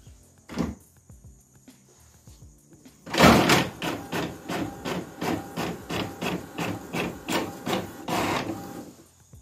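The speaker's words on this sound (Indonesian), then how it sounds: "Sekarang langsung saja kita print." A printer runs off a Word document: a burst of feed noise, then a steady train of evenly spaced mechanical clacks and whirs, close and fairly loud, with no talking.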